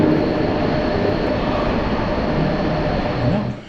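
A Spanish high-speed train at Córdoba, Andalusia, rumbles and roars steadily nearby as it pulls away, the loud mechanical drone fading out at the very end.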